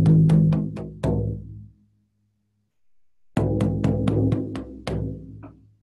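Shamanic frame drum callback rhythm: two bursts of sharp, evenly spaced hand-drum strikes, each run of quick beats ringing into a resonant boom, separated by a brief silence, loud and close with no talking.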